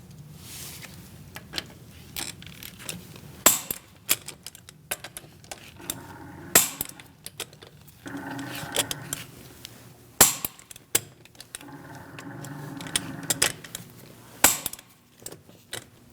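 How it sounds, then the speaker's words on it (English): A torque wrench with a 17 mm socket tightens the wheel nuts on a 2000–2006 Mini Cooper in a crisscross pattern: sharp close clicks at intervals with ratcheting rattles in between, in an otherwise quiet garage. "We're going to torque our wheels to 95 foot-pounds. I'm using a 17 millimeter socket."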